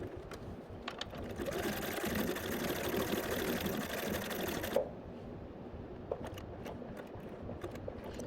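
A sewing machine runs steadily through free motion applique stitching for about three seconds, a dense continuous whir close by, then stops, leaving quieter handling noise and a few faint clicks.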